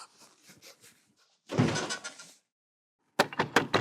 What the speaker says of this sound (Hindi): दरवाजा खोल दे जाके